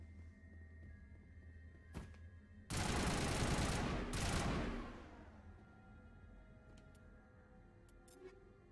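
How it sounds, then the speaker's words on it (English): A burst of sustained weapon fire in Mass Effect: a loud, dense rattle lasting about two seconds before it fades out, with a few sharp, isolated ticks and thunks before and after against a quiet backdrop. "Now what are you shooting at?"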